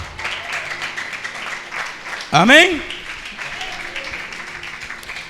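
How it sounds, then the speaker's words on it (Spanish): Congregation clapping loudly during an evangelical church service, a continuous wash of hand claps with a short, sharp sweeping tone midway and a voice speaking over it. "Alábale con fuertes palmas, Señor."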